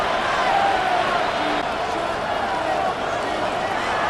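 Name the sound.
stadium crowd noise in EA Sports football video game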